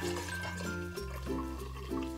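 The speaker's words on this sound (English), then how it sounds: "We will pour half of our blue color into this container." Blue-colored water pours into a glass container, a short liquid splash and fill over about two seconds with steady tonal music behind it.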